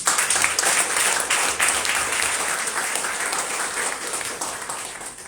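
An audience claps and cheers at an evening gathering, a dense, loud burst of applause that starts strong and slowly thins out over a few seconds.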